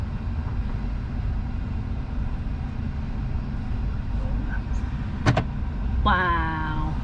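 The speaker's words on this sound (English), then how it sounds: "passing Heathrow Airport on the first drive of the Tesla as we take it home" A Tesla drives past Heathrow Airport on its first trip home, a steady low road rumble heard from inside the car, with a couple of sharp clicks and a voice speaking near the end.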